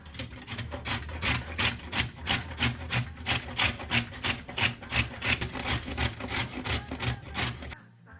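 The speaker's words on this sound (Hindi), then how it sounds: "हमने यहाँ पे गाजर को थोड़ा थोड़ा करके ग्रेट करना शुरू किया है" Carrots for gajar halwa rubbed on a coarse grater in a steady, rhythmic rasp, roughly two strokes a second, close and clear with no talk, stopping abruptly at the end.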